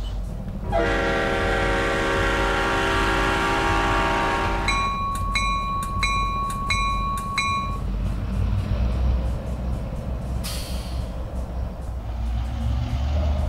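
An SW1500 locomotive in a train simulator game sounds a sustained multi-tone horn, then short repeated horn blasts over a steady diesel engine rumble, with rail clatter continuing after.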